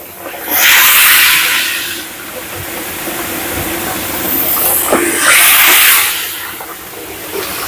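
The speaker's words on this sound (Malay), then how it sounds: "Ha ni kita nak goreng." Loud bursts of hissing sizzle as patin fish is dropped into hot oil at a food stall, swelling twice and easing between, with a constant crackling hiss throughout.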